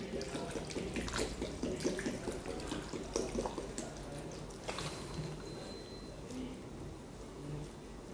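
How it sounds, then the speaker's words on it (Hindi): RO water poured into a bowl of assorted vegetables, a steady splashing trickle of liquid that runs continuously and fades slightly toward the end, with faint voices in the background. "एक बाउल में हम डाल रहे हैं आरओ का पानी।"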